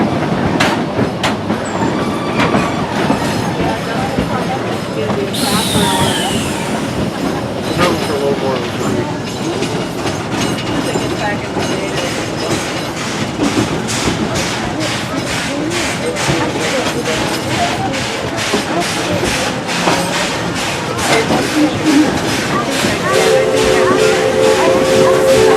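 Steam locomotive Dixiana hauling a train up a steep mountain logging railroad, with a steady loud rumble, rhythmic chuffing and wheel clatter, a brief hiss, and a voice talking over it.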